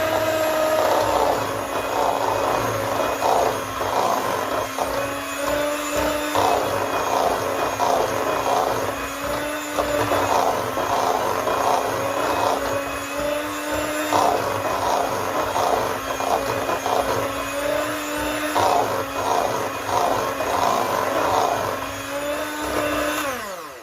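An electric mixer beats butter until creamy for soft butter cookies, a steady loud motor whine with a sustained hum and rhythmic whirring throughout, no pauses.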